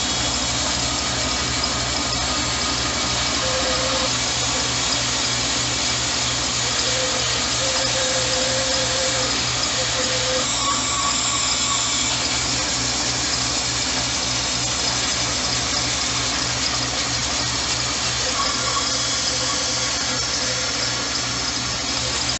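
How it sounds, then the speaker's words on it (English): A bandsaw cuts a steel knife blank to square off its sides, giving a steady, loud, continuous grinding whine with a constant motor hum and faint squeals throughout. "take it back to the bandsaw and square off the other sides easily"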